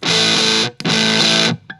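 An Electro Harmonix Satisfaction Plus fuzz pedal drives an electric guitar into two loud, buzzy sustained chords, each cut off sharply, followed by a faint short pluck at the end.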